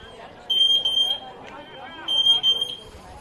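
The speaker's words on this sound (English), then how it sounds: "Got some sort of alarm going off." An alarm sounds at a football ground during a Tasmanian representative men's match: two bursts of high, shrill, rapid electronic beeping about two seconds apart, fairly near, with faint crowd babble underneath.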